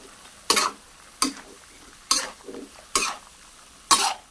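Mixed vegetables with marinated pork are stir-fried, a spatula scraping and tossing in five distinct strokes spaced about a second apart over a faint steady sizzle.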